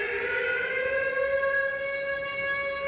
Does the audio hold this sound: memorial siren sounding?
yes